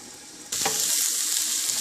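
Cabbage and peas sabzi in a pan on medium heat, silence then a sudden steady sizzle with a brief stirring scrape, close and fairly loud.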